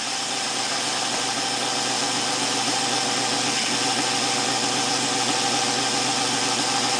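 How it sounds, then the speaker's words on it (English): A faulty compressor drives a fischertechnik pneumatic hand model, giving a steady, continuous mechanical hum and rattle that stays close and even for the whole stretch, with no talking over it. "And now there's a problem with the compressor."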